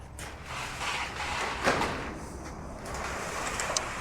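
Sliding garage doors rumble and scrape along their track in a near, continuous grinding slide, with a sharper knock partway through and a light rattle near the end.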